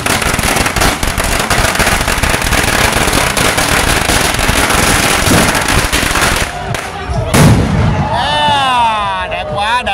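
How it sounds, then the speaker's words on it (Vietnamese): A large string of firecrackers rattles off in a dense, continuous volley of sharp pops for several seconds at a Lunar New Year celebration, with people talking over and after the blasts. "Bây giờ anh đang đốt một cái pháo đại nữa nè"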